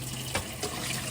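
Water runs from a tap over food being rinsed in a sink, a steady close splash with two brief louder gushes as a hand stirs through it.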